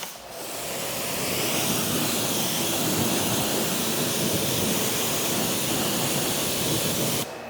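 A water spray rinses a coated car, a steady broad hiss of jetting water lasting the whole stretch without a break, close and fairly loud, with no voices.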